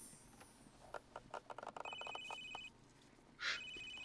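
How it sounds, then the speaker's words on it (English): A phone rings in The Sims 3, several short electronic trills at a low, steady level, with no talking over them. "Whose phone is that?"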